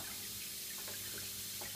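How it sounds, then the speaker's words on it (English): Water pours in a steady trickle back down into the water compartment of a tree frog vivarium, a continuous close splashing flow with a few faint drips, with no voices. "Set it up so the water does actually pour straight back down into the water compartment."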